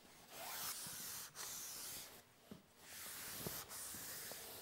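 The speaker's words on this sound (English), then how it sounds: "use a Scotch-Brite pad and carefully go over the entire top of the saw" A Scotch-Brite pad rubs over a table saw's cast top in long, soft hissing strokes, faint and close, with brief pauses between passes and no talking.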